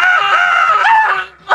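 A voice actor lets out a long, loud, strained scream in a recording studio, wavering in pitch and breaking off near the end before a short fresh yelp.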